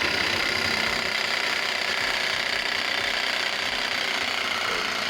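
A Black and Decker cordless power tool from a 4-tool combo kit cuts at modest speed, giving a continuous, even motor whine with a gritty buzz that holds steady throughout, close by and with no voices.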